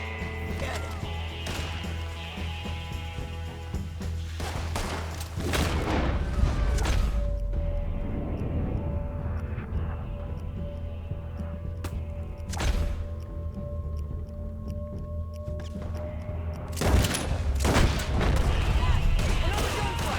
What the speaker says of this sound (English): Another gunfight!